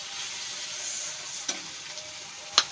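Dried hilsa fish (shutki) fries in a wok with a steady broadband sizzle, steady and close. A few sharp clinks or pops break through near the end, and no one speaks.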